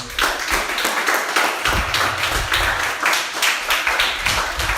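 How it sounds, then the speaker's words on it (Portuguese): A church congregation claps in a steady rhythm, close and loud, with low thumping beats under the sharp hand claps. "Dê uma salva de palmas para Jesus."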